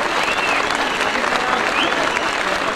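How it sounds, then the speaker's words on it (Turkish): Crowd applause at a village festival in Ayvalı, Turkey, steady and dense clapping from many hands throughout, loud and close with no talk over it. "siz sevgili köylerimizden canı gönülden bir alkış rica ediyorum efendim"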